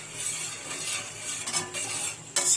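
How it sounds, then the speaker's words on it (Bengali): A spoon stirs baby pigeon feed mixture in a pot on a stove, giving a steady soft scraping swish with faint clinks and one sharper metallic scrape near the end, no voices. "আপনারা চামচ দিয়ে দেখুন, এই ব্যাপারটা নাড়াতে থাকবেন"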